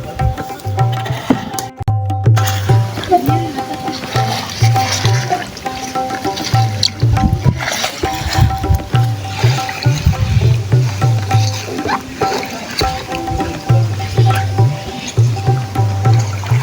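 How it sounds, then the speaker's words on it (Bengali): Chopped taro leaves are swished and rinsed in a pot of water, giving soft sloshing and splashing in uneven bursts, mostly under steady background music. "সব শাকগুলো কুটা শেষ। আমি এখন এটাকে সুন্দর মতো ধুয়ে নেব।"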